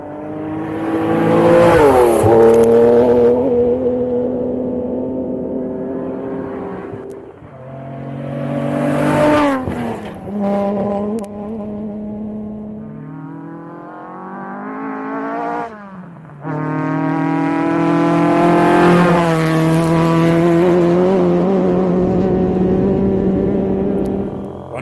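Classic rally cars on the East Africa Safari Classic Rally roar past on a dusty road, loud engines rising and falling in pitch as several cars approach, pass and fade, one after another.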